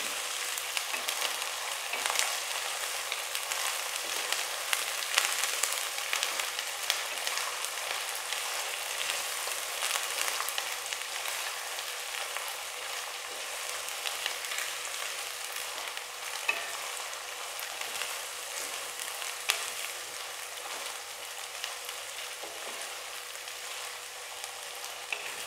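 Babool (acacia) pods frying in oil in a pan for a Rajasthani curry, a dense continuous hiss and crackle that holds steady and close throughout, with faint occasional stirring.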